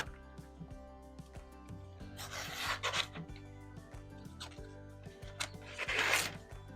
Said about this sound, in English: It is cutting the paper, but it does get hung up.